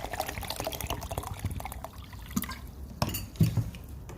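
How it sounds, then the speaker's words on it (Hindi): Water pours into a blender jar with sugar and falsa berries for sharbat, a close, fairly soft splashing and trickling that wavers, with a few drips and clinks toward the end. "1 लीटर के करीब हम इसमें पानी शामिल करेंगे"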